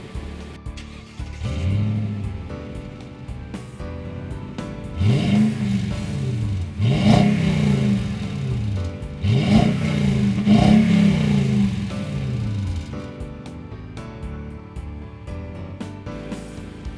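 A 2014 Toyota Tundra 1794 Edition with its 5.7-liter I-Force V8 revs several times in close succession, each throttle blip climbing and falling back, loud and close over a steady idle with no talking.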